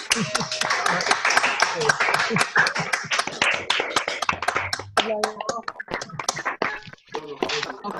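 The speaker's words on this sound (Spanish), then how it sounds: "Vamos a aplaudir todos." Audience applause at a lecture on children and adolescents with serious pathologies, dense overlapping claps throughout with voices talking over it, thinning toward the end.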